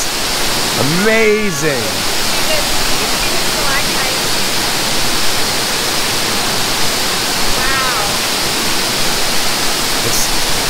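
Waterfalls at Top of the Rock in Branson, heard during a golf cart tour, give a steady broadband rush that fills the whole clip, with people exclaiming over it near the start and again briefly later.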